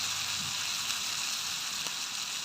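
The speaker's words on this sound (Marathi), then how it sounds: "मीडियम गॅसवर फ्राई करायचं जास्त फास्ट नाही करायचं" Kingfish (surmai) slices frying in oil in a pan over medium gas, giving a steady, even sizzle that holds unchanged throughout at moderate level, with no talk.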